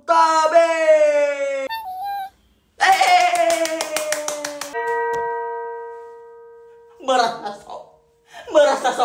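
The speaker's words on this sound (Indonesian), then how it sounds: "boleh tepuk tangan untuk Tabe" An audience claps for a contestant at a singing contest, rapid clapping bursts mixed with loud, sustained yells and whoops, broken by brief pauses and chuckling voices.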